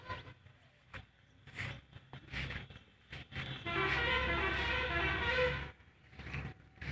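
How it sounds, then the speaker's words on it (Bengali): Buses and other traffic on a distant main road, with short horn toots scattered throughout and a louder, longer stretch of engine and road noise in the middle, heard from some way off with no talking. "ওই দিকটা হলো আমাদের মেন রোড, বাসের আওয়াজ শোনা যাচ্ছে"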